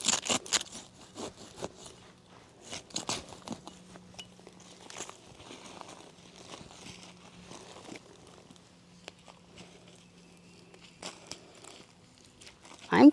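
Roots of a hardy banana plant being cut during messy repotting, giving intermittent crunchy snips and crackles at close range, louder at the start and end, with a faint steady hum underneath.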